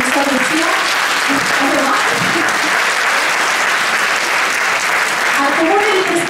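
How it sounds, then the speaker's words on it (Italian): Loud, dense applause from a theatre audience at an evening event fills the space without pause, with a few voices audible through the clapping. "al quale farei un forte applauso"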